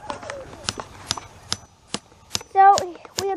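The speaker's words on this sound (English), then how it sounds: "Brody is hammering down a, what do you call it? A tent stake." A tent stake is struck with a hammer outdoors: a run of about a dozen sharp, fairly close knocks in an irregular rhythm, with voices talking between the blows.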